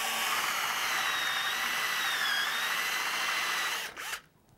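A power drill bores a plug hole about half an inch deep into a log bench, a steady close whine holding for about four seconds before spinning down and stopping.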